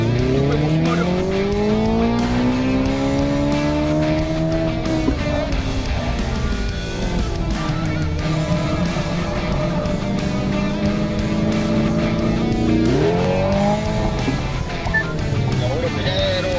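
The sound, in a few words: Hyundai Ioniq 5 N accelerating with synthetic engine sound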